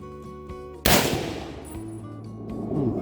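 A single loud rifle shot from a rifle design dating to 1928 cracks sharply, then decays into a lingering rumble over a steady tonal hum in the background.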